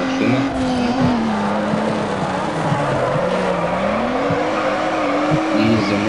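A Toyota Supra drifts in Need for Speed, its engine droning loudly while the tires squeal in a long, wavering whine that rises and falls as the car slides, with no talk over it.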